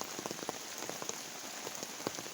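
Rain falls steadily at a campsite, a soft continuous patter with scattered sharper drops tapping on a nearby surface, quiet and close with no talking.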